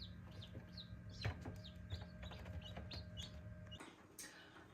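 Newly hatched chicks in an incubator on the night of the 22nd day, rapid high peeps repeating over a low steady hum, fairly faint and without speech.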